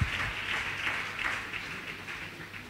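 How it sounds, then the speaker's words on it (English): A church congregation claps hands together, a short burst of fairly soft, rhythmic clapping from many people that fades gradually over a few seconds. "Clap your two hands for Jesus."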